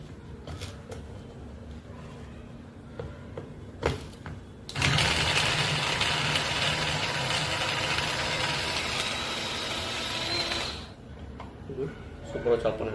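An electric food chopper starts up and runs with a loud, steady whirring motor for about six seconds before cutting off, with quieter handling clicks and knocks before and after.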